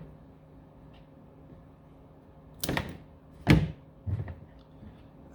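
Household wire being snipped with cutters during a hotwire installation: three short, sharp clicks in a row, with a louder snap in the middle, against a quiet room hum and no talking.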